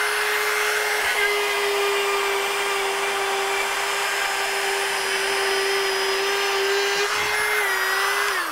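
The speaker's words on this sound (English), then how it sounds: "Or you can use a cutout tool." A cutout tool screams steadily as it cuts through a densely packed fiber soundproofing panel, its high motor whine holding nearly constant and dipping slightly under load near the end, loud and close with no talking.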